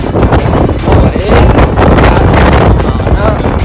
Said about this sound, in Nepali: यहाँनिर चकेवा डाँडाको दामी हावा चल्दैछ